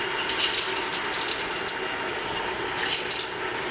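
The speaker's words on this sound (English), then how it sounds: "Now we'll add 1 pound package of split peas." Rinsed dry split peas are poured into an Instant Pot, giving a close, bright rattling patter in two bursts with a brief lull between them.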